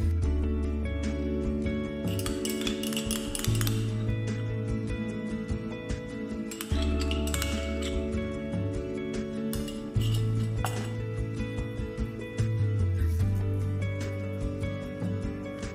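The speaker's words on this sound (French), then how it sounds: "Je fouette donc mon jaune d'œuf avec le sel et la moutarde" Whisk clinking against a bowl as egg yolk is beaten with salt and mustard, a steady rapid metallic rattle with brief pauses, close and fairly loud under light background music.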